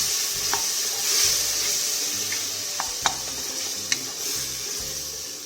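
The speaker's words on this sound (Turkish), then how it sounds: "Şimdi salçamla sosu karıştırdım." Tomato paste frying and being stirred in a pan for Turkish restaurant-style white bean stew: a steady close sizzle with scraping spoon strokes and a few sharp clicks of the utensil against the pan.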